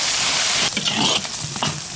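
Lean pork stir-fries in a wok with dark soy sauce, a loud continuous close sizzle and hiss broken by a few spatula stirs.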